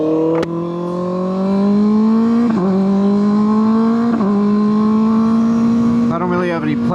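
A Kawasaki ZX6R motorcycle ridden at dusk, its engine droning steadily and rising in pitch through the gears, with brief dips at each shift and a rider's voice talking over it.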